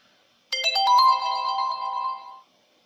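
A phone plays an SMS notification ringtone, a short melodic tone, clear and close, lasting about two seconds against near silence.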